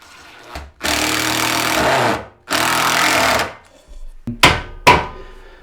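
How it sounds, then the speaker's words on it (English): A power screwdriver drives a screw into a loft rafter for a LoftZone StoreFloor raised storage platform, two sustained motor whirrs followed by short, sharp bursts as the screw seats, close and loud with no talking. "then we'll just put 1 screw in to show you how that works"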